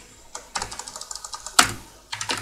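Fingers type on a computer keyboard while writing text in MS Word, producing bursts of rapid, close key clicks separated by short pauses, with one sharper, louder key strike near the middle.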